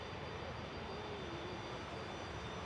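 An airliner on approach to land at Manchester Airport gives a steady, distant broadband engine roar that holds evenly throughout, with a faint whine running above it.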